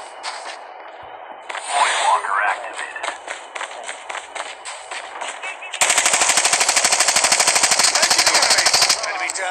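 Rapid automatic gunfire in a Call of Duty Mobile battle royale match: loose shots and movement with voices early on, then a dense, loud, evenly spaced burst of machine-gun fire lasting about three seconds.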